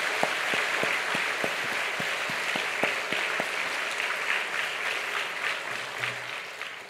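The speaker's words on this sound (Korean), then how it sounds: "박수나 한번 줍시다" Congregation at a Friday church service applauding scholarship students: a steady, fairly distant wash of many hands clapping for several seconds, with no voices over it.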